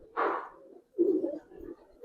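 Giribaz and colouring pigeons coo close by, giving two soft, throaty calls in quick succession with a short pause between them.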